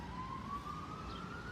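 A police car's siren wails as it passes near a roundabout, a single sustained rising tone sounding fairly faint and distant over a low traffic rumble.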